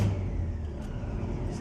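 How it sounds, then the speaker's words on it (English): A 1974 Chevy Nova's engine runs just after starting, a low, steady idle rumble heard up close with no talking. "I'll start the car."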